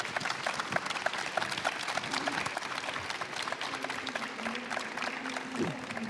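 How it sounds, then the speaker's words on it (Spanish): Sustained applause from the audience of a Latin American education panel, dense even clapping throughout with a faint voice or tone murmuring underneath. "darle un fuerte aplauso a nuestros panelistas del día de hoy"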